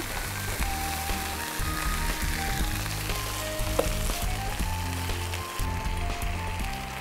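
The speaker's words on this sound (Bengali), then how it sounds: "এবার টমেটোটা দিয়ে দিব।" Tomato goes into a hot pan of rohu fish cooked with dried red chillies, and the oil sizzles and crackles in a continuous close spatter with a few sharper pops along the way.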